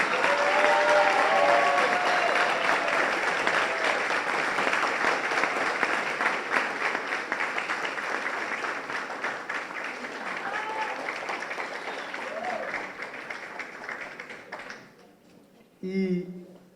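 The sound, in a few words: audience applause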